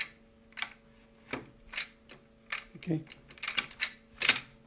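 Cartridge seated into a Canon ImageCLASS MF8580Cdw printer: a series of sharp plastic clicks and clatters, close and fairly loud, spaced irregularly with brief pauses between them.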